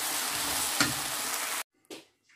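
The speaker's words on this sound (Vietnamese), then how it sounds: "Mình trộn đều lên." Stir-fried noodles with chicken tossed in a hot pan, a steady sizzling and scraping hiss running loud for over a second before cutting off, followed by a brief faint clatter.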